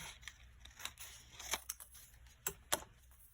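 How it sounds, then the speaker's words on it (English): Scissors snip through an extra piece of paper while a folio with ribbon sliders and envelopes is being made. Several quick, crisp cuts come up close and fairly quiet, spaced irregularly. "I'm going to cut this extra piece here"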